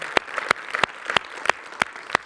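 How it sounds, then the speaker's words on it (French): Audience applause at a festival awards ceremony: sparse, irregular sharp claps from a smallish crowd, fairly close, with no voices over it. "On peut l'applaudir vraiment très fort."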